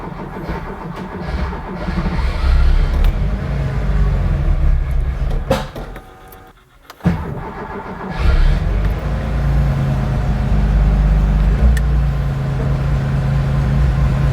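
A Porsche 911 2.8 RSR race engine runs loud and rough, falters and dies briefly, then fires back up and keeps running at a steady, heavy idle nearby.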